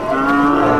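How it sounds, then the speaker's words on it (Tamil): A bull calf at the Vaniyambadi cattle market gives a single loud, close moo, a short tonal bellow standing clear of the market background. "காளை கண்ணுக்குட்டி பாருங்க."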